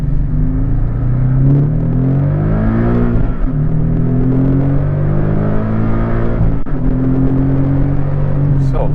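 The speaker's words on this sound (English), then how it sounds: "Again, normal mode still sounds really good, giving it throttle." Porsche 718 Cayman GTS with a Fabspeed Supercup exhaust in normal mode, a loud close engine note rising through the revs, briefly dropping at gear changes, then climbing again.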